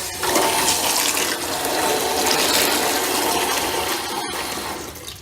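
Water rushes loudly and steadily from an opened hot water tank pressure relief valve during a test, a harsh gushing hiss that holds for several seconds before briefly cutting out.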